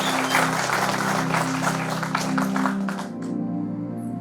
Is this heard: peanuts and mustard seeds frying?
no